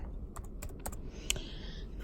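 Quick run of light clicky keystrokes on a computer keyboard, about eight taps in two seconds, close and crisp over a quiet room hum.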